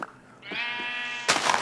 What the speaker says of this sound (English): I hear sheep.